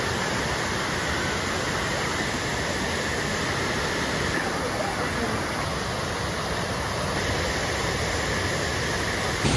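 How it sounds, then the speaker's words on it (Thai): Third tier of a forest waterfall with rocks behind, where people swim in the pool; a steady, loud broadband rush of falling water fills the whole stretch without break. "ตรงนี้นะคะเป็นน้ำตกชั้นที่3นะคะ"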